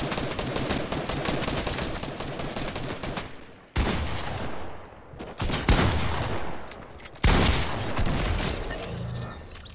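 Rapid airsoft gunfire at an opponent, long continuous rattling bursts broken by short pauses, loud and close with no talking.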